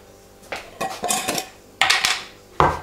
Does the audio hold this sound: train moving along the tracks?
no